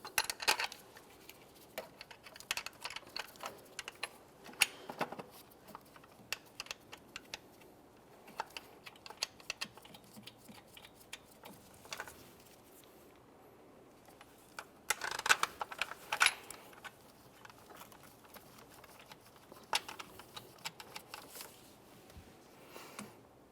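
Alternator mounting bolts on a 2001–2005 Ford Sport Trac are started and tightened by hand, producing quiet, close metallic clicks and rattles in irregular bursts with a busier cluster midway.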